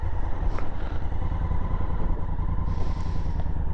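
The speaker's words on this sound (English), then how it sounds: "Motorbikes are amazing." A Honda Africa Twin motorcycle rides across open moorland, its engine a steady, continuous roar blended with rushing wind noise throughout, with no talking.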